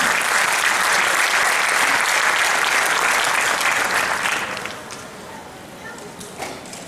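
Dense audience applause at a parents' conference, loud and sustained, then fading away over the last couple of seconds.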